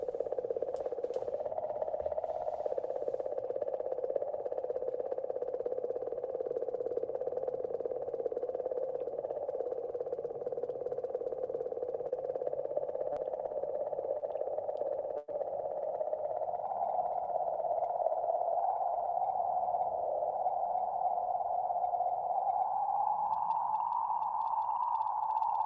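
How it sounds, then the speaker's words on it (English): A sped-up recording of a comet's magnetic field oscillations plays alone as a singing comet, a steady warbling whistle-like tone that slowly wavers and drifts upward in pitch, faint and continuous. "So we will have a listen to the singing comet."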